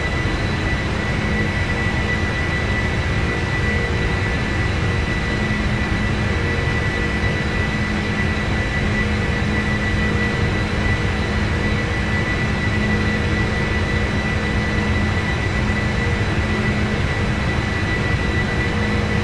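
Steady, loud jet engine roar from a PMDG 747 in the Prepar3D flight simulator during thrust reduction after takeoff, a continuous broadband drone with a faint tonal hum throughout and no talk.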